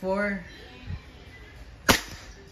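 A WE airsoft 1911 full-metal gas pistol fires one sharp, short crack about two seconds in, after a brief spoken word at the start; quiet room otherwise.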